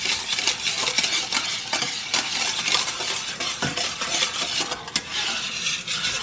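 Giblet gravy is stirred in a pan with a utensil, giving a steady run of scraping, clinking strokes against the metal with a faint sizzle underneath, close and continuous without talk.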